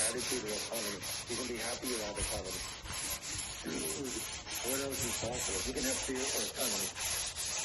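Hand sanding of an antique timber dining table with 180-grit paper gives a steady, close, rhythmic rasping scrub of back-and-forth strokes, continuous and unbroken with no talking.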